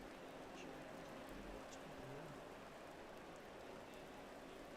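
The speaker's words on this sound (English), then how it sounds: "It does look like the rain kicked up a notch, Don." Steady wet hiss of rain in a sim racing game's Monza wet race, a dense even wash filling the whole stretch, with faint engine hum underneath.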